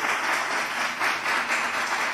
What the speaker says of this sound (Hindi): जोरदार तालियां खुदा के जलाल के लिए